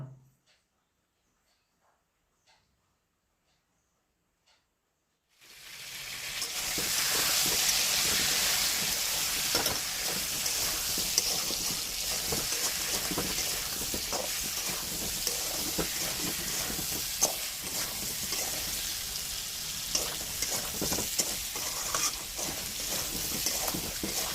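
Potatoes sizzle and fry in hot oil after turmeric goes in, a steady loud crackle that bursts in after a few seconds of near silence, with faint stirring scrapes mixed through.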